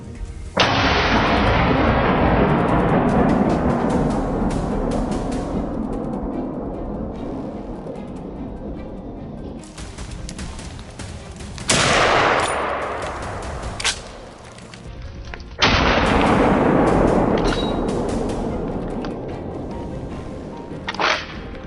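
Loud gunshots ring out during a wild hog hunt in a forest, three sharp cracks with long echoing tails, the first near the start and two more a few seconds apart later on, with no talk.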